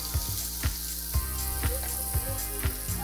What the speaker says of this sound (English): Crank it up to medium high. And we are gonna go in with the minced shallots.